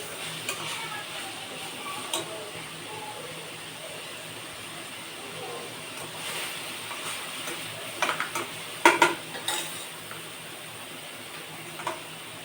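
Onions being sautéed in a home kitchen pan for chicken fried rice, a soft steady sizzle with occasional scrapes and a few louder clinks of the utensil near the end.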